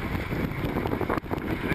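Wind gusts rumble against the microphone aboard a sailing boat during a regatta, in a low, steady roar, with a brief dip in the buffeting partway through.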